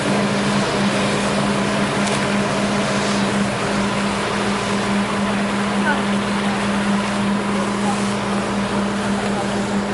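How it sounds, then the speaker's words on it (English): A Massport Fire fireboat pumping thousands of gallons a minute in Boston Harbor during a tall ships event, a steady loud roar of pumps and rushing water with a constant drone throughout. "You probably can't hear me because it's pumping thousands of gallons a minute."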